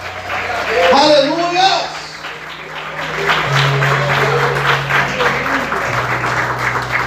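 A church congregation claps in praise, a broad crowd of hands that rises after a brief spoken exclamation and holds steady and fairly loud, with a sustained organ or keyboard tone underneath.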